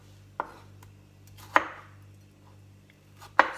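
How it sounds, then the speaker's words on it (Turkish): A knife chops tomatoes into cubes on a cutting board, giving three sharp, separate knocks spaced well apart over a quiet low background hum. "Domateslerimizi de kare kare doğruyoruz."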